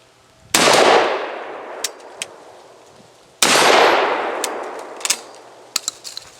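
Two loud, close booms from a Stoeger STF 3000 shotgun fired at steel silhouette targets downrange, each shot trailing off in a long echo, with faint metallic clinks and ticks between and after.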